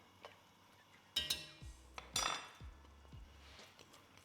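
Utensil clinks and scrapes against a pot while flour and butter are stirred into a coq au vin sauce, a few distinct metallic knocks standing out clearly with no talk.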